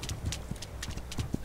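A horse's hooves clip-clop in the video game This Land is My Land, a quick run of light, evenly spaced taps heard at moderate volume.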